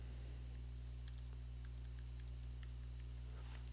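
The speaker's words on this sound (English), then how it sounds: "So I'm going to type in facebook.com again." Fast, light keystrokes on a computer keyboard as a web address is entered. The clicks are quiet and close over a steady electrical hum, with no talking.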